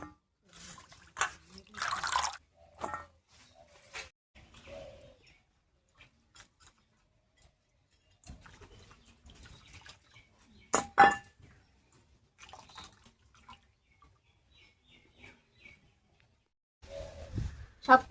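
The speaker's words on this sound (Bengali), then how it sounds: "এবারে সবকিছু পরিষ্কার করে ধুয়ে নিচ্ছি।" Chopped bottle gourd shoots and garlic leaves are rinsed under water, with intermittent splashes, drips and trickles in short bursts separated by quiet gaps.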